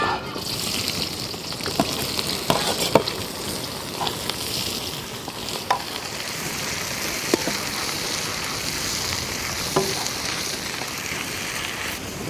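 Onions fry in ghee and oil in a pan for Chettinad chicken chukka, giving a steady soft sizzle with occasional small pops and crackles heard close up.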